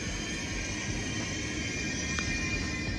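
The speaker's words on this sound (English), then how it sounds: "It's a very loud train." A loud train heard from inside a passenger carriage on a German rail route near Munich, with a steady broadband rumble and hiss continuing evenly throughout and no voices.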